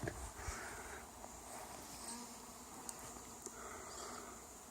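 Honey bees buzz around a newly installed nuke hive, a faint, continuous insect hum outdoors with a few small knocks and no talk.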